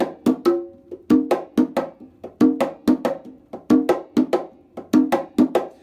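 Congas play the traditional itotole pattern for ChachaElekefuñ, a repeating cycle of sharp open tones and slaps in a steady groove, close and solo with no voices.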